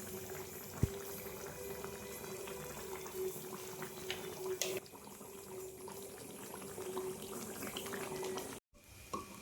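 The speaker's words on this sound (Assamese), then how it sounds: "এতিয়া মাংসখিনি বনাই আছে বাৰু। সেইখিনি বৰ্তমান উতলি আছে" Chicken curry with pepper bubbles in a pot at a steady simmer, a soft continuous boil with small pops and gurgles, close and fairly quiet, with no voices.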